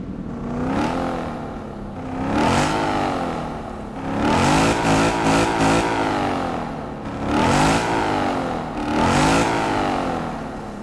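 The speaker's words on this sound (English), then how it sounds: "Also, the sound of this car is insane." A Lexus IS F engine in the mobile game Car Parking Multiplayer revs up and falls back repeatedly, a loud, near, rising-and-falling engine roar in several swells with no talking over it.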